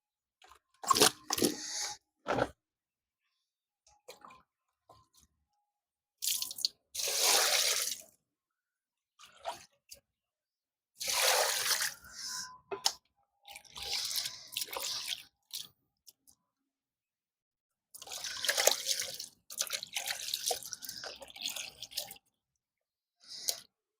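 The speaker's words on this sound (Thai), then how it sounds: "นี่ลวกแล้วครับจะล้างน้ำนี่" Blanched frogs being rinsed in water for Thai frog soup, wet squishing and splashing bursts from handling in a bowl, separated by quiet pauses, close and moderately loud.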